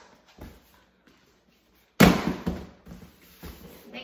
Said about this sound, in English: now we'll bang it around a little bit more